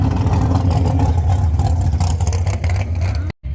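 A 1980 Pontiac Trans Am with a turbocharged 6.0 Vortec LS V8 runs rough on seven cylinders, a loud, uneven engine drone with a rising rev before the sound cuts off abruptly near the end.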